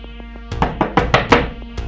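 Knocking on a door at night, a quick series of about seven sharp, close raps in an irregular rhythm after a brief quiet start.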